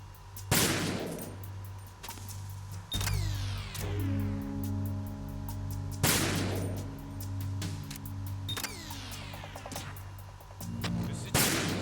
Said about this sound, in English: Apparently, he didn't hear the gunshot.